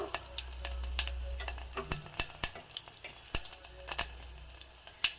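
Mustard seeds, chopped ginger and garlic sizzle and crackle in hot oil for a capsicum curry, a steady fry punctuated by sharp pops and spoon clinks close by.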